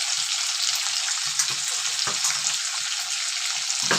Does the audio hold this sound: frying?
yes